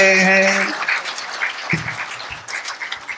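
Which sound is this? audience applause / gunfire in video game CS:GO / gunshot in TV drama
audience applause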